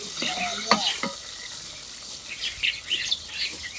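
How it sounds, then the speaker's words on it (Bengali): Pieces of KFC-style crispy chicken sizzle in hot oil as they are stirred and lifted out, bursts of crackling and scraping over a soft frying hiss, with faint bird chirps in the background. "এই চিকেন গুলা ভাজা নিচ্ছি খুব সুন্দর করে দেখেন"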